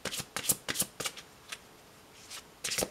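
Oracle cards being shuffled and handled, several quick crisp riffling bursts in clusters with short pauses between, close and clear.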